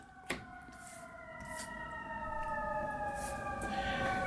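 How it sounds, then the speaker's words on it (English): An emergency siren wails through an open window, faint and distant at first, with slowly rising tones that grow gradually louder. "Pardon the siren, I've got the window open"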